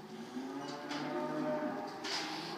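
Brangus and Hereford crossbred cattle moo in a long, low, droning call that swells and holds across the clip, fairly near and with no one talking.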